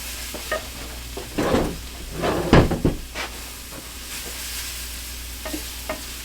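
Vegetables dropped into a hot pan while cooking crawfish duck étouffée: bursts of sizzling hiss and clattering as the pieces land and are moved around, settling back into a steady sizzle with a few light knocks.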